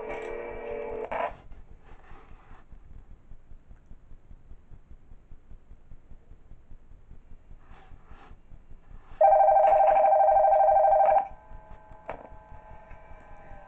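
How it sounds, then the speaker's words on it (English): A telephone rings in the Five Nights at TubbyLand video game, a brief ring at the start and a longer, louder ring later, separated by quiet ambient ticking. "Okay, we get a phone call, of course."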